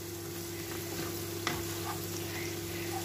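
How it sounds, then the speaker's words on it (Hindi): Ginger and garlic frying in a pan for a keema and mixed vegetable dish, giving a steady close sizzle with faint stirring scrapes and one brief clink, alone without talk. "इसको थोड़ा सा और भून लेंगे"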